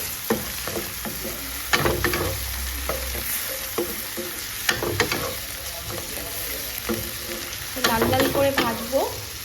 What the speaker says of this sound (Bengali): একটু আদা পেস্ট আর কি দিয়ে আবার ভালো করে নাড়িয়ে চাড়িয়ে